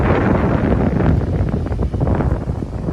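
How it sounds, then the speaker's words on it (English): Strong wind buffets the microphone, a continuous low rumbling roar with gusty fluctuations and no voices. "It's windy too."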